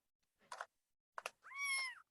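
A kitten gives two short meows followed by a longer drawn-out meow, close and clear against silence.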